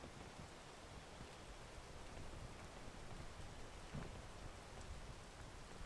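Steady rain falls in the video game PEAK, a dense, even wash of patter with no talk over it.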